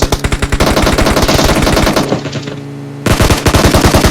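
Rapid automatic gunfire in PUBG Mobile, loud and close, a steady stream of shots that pauses briefly for about a second before another fast burst resumes.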